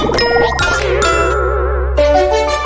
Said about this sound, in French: sonnerie portable